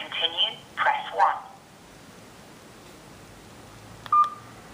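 Keypad tones from a Nokia 222 mobile phone in a pay-as-you-go menu, an automated voice prompt at the start, then quiet, then one or two short, sharp beeps near the end.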